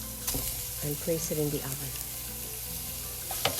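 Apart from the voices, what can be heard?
sausage sizzling in a pan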